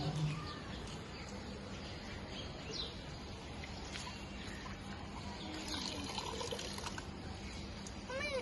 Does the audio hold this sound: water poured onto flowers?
yes